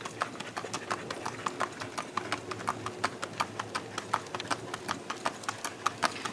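Hoofbeats of a gaited mule moving in a rack, a steady, quick four-beat clip-clop that carries on without a break through the whole stretch at close range.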